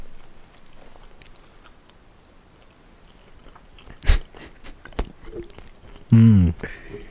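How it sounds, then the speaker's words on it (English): Someone bites into food made with butter, garlic and parmesan, producing a couple of close, distinct crunchy bites followed by chewing amid quiet mouth sounds and soft room noise. "I'll let the listeners listen to my bite."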